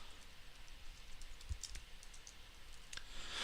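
A few faint, sparse computer mouse clicks occur while editing a label's text in Xcode on a computer, over a low background hiss.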